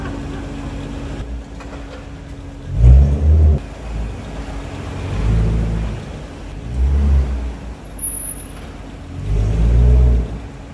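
A neglected V8 BMW rumbles nearby, revving in low throbbing surges as it creeps slowly forward into a garage, with a steady hum underneath and no one speaking.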